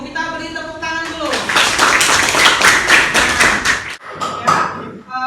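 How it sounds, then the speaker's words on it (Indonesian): Students in a classroom clap their hands after a group discussion, a loud burst of rapid, overlapping claps that cuts off abruptly, then resumes briefly. Voices can be heard at the start. "Kita beri tepuk tangan dulu"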